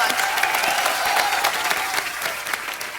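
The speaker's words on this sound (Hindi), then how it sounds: "जोरदार तालियां एक बार।" A studio audience at a comedy talk show claps loudly and steadily, a dense burst of applause with a faint tonal hum running beneath it.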